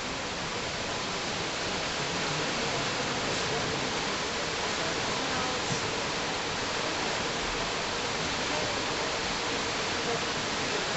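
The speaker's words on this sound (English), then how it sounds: "All this wild water is from the snow melt up in the mountains of Silverton, the Needleton Mountains" Wild river water rushing with mountain snow melt near Silverton, a dense, constant roar of churning water, loud and close, unbroken throughout.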